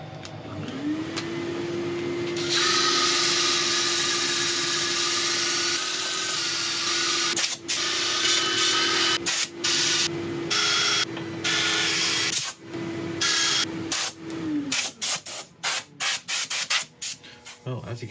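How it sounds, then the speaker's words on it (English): A spiky Mallee burl bowl spins on a wood lathe while being sanded, a steady whirring motor tone with rasping friction that rises, then breaks into intermittent bursts and stops as the work pauses. "I shall set up for sanding."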